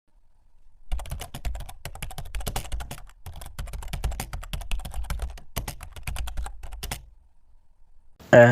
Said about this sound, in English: So we will write the code.